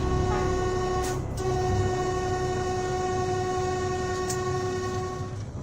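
A train passes close by with a loud, sustained horn blast over the heavy rumble of rolling cars.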